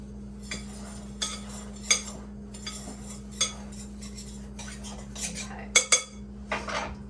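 A spoon scrapes and clinks against a bowl while salt is stirred through dry biscuit ingredients, producing sparse, close taps and clinks over a low steady hum, with no talking.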